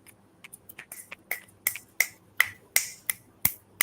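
A series of crisp finger snaps, sparse at first then settling into a steady rhythm of roughly one every half second, close and fairly quiet with no talking.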